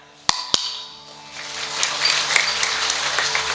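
Audience at a Marathi kirtan breaking into applause, two sharp claps at first followed by a swelling wash of many hands clapping together in a large gathering.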